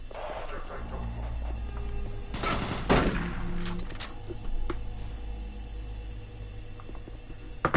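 Gunfire in Doom 3: a cluster of sharp, close shots in quick succession, then a few scattered single reports, set against a low, humming sci-fi background.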